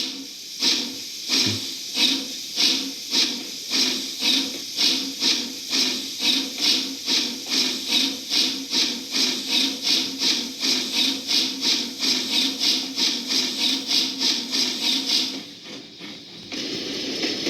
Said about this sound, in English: He steamed away before daylight could answer.